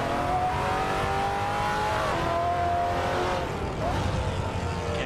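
A Maserati Quattroporte roars in the racing game Assetto Corsa at Donington, its engine note rising and falling through gear changes over a steady tire and road rumble, close and continuous.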